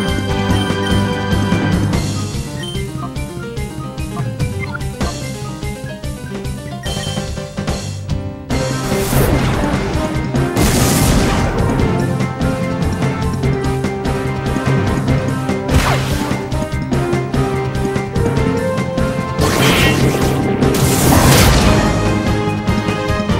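In Pokémon XD Gale of Darkness, attack hits land as loud crashing, whooshing impacts over game music, with several bursts spread through the clip and no talk.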